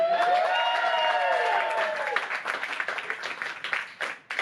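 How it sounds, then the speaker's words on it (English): Audience applause at a stand-up comedy special, starting behind a rising cheer or whoop and settling into steady crowd clapping for a few seconds. "Clap it up for me"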